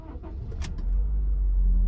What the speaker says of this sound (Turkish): arabamızı kapatıp açtık